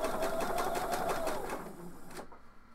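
A sewing machine stitches elastic joined into a circle, running in a fast steady rhythmic patter up close, then slowing and stopping near the end, with no talking.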